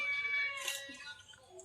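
A cat meows close by in a home where fish is being fed to it, a short rising call with a brief strained caterwaul-like edge, heard alone without talk.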